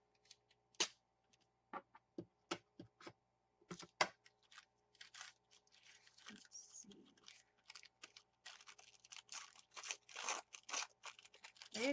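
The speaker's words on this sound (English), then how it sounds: "Use our handy little metal ruler to trim off" Wax paper is trimmed along a metal ruler on a craft table, with faint, crisp snips and crinkles in an irregular rhythm, sharp clicks early on giving way to denser rustling and cutting near the end, quiet and close.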